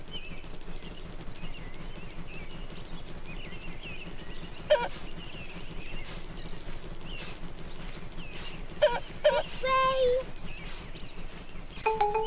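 Cartoon chickens from Peppa Pig cluck in short scattered bursts, a few near-together calls standing out over a busy background with quiet talk running underneath.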